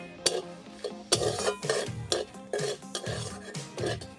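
Salt dry-roasting in a pan while a spoon stirs it. Steady scraping and clinking strokes of metal on metal in an uneven rhythm sound close and alone, with no voices.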